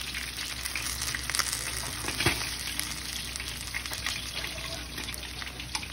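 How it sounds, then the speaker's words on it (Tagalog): Five pieces of fish frying in hot oil for escabeche give off a steady, dense sizzle and crackle, close up and continuous, with occasional louder pops and stirring. "Inintay ko maprito talaga yung ating 5 pirasong isda."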